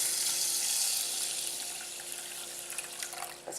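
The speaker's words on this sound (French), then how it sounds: "je vais mettre le triple d'eau, donc mon pot entier qui fait 500 ml" Water pouring from a tap into a 500 ml pot in a kitchen, a steady close rushing stream that fades slightly and ends with a few splashy drips.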